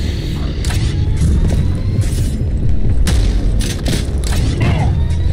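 Gunfire and explosions from the retro shooter game Prodeus make a dense, loud barrage of booms, thuds and rapid shots with a constant heavy rumble. A voice talks faintly underneath.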